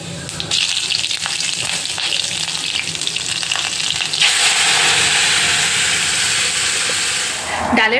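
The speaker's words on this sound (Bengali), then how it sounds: "ডালের ফোড়নটা দিয়ে দিলাম আর তোমাদেরকে দেখালাম তাতে আমি রাঁধুনি আর জিরা ফোড়ন দিয়েছি" Radhuni and cumin seeds hit hot oil as a tempering for masoor lentil dal, giving a loud, sustained sizzle and steamy hiss that intensifies midway and runs throughout, close to the listener.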